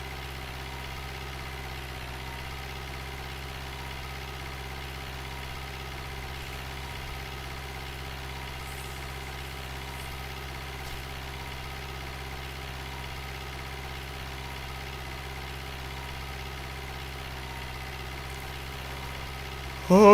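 A tractor engine idles in Farming Simulator 2011, a steady low droning hum with a constant even tone holding for the whole stretch, nothing else over it until a brief bump at the very end.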